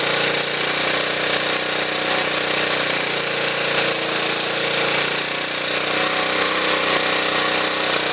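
A Honda CT110 motorcycle engine idles steadily during carburetor idle-mixture tuning, a constant close, loud hum and buzz with no speech.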